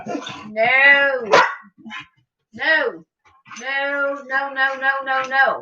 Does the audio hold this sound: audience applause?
no